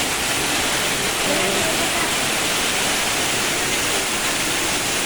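Steady rushing water, loud and close, like a cascade pouring nonstop with a broad hiss, with no breaks from start to end.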